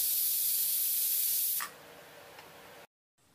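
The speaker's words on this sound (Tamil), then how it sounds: "2 விசில் விட்டு ப்ரெஷர் அடங்கிருச்சு." Pressure released from a cooker of barnyard millet vegetable biryani gives a loud, steady, close steam hiss that abruptly drops to a softer hiss, then cuts off.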